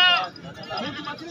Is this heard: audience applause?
no